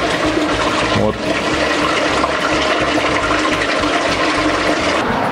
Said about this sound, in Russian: Наливаем 100 литров.